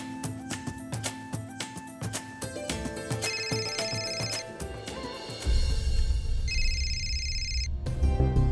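A telephone rings in a home during a Marathi family drama, a repeating electronic ringtone over music, loud and close, continuing for several seconds before a low rumble swells underneath.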